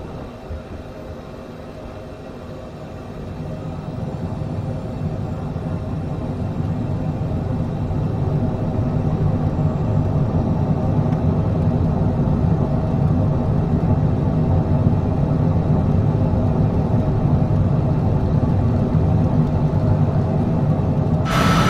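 Airliner engines spooling up for the takeoff roll on runway 23 right in Microsoft Flight Simulator 2020, at Çardak in Turkey: a steady broadband rumble and whir that swells over the first seconds, then holds loud and even with no talk.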